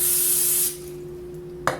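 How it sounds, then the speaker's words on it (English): Pam cooking spray hisses from an aerosol can onto hands in a kitchen, one loud steady spray of under a second, then stopping, followed by a brief soft rubbing or tap. "we're gonna spray our hands with Pam"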